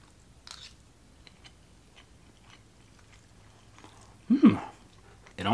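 Someone chews a mouthful of beef and potatoes from a Russian military single-ration MRE, close up, with a short moist crunching burst near the end after mostly quiet.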